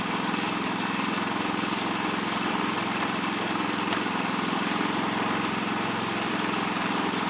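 A portable generator runs steadily close by, its engine drone constant and even for the whole stretch with no talk over it.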